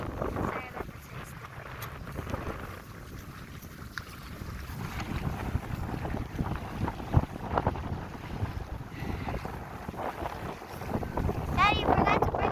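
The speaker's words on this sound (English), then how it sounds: "it's too windy" Strong outdoor wind buffets the microphone in heavy, irregular gusts, a loud low roar rising and falling throughout, with voices faintly present beneath it.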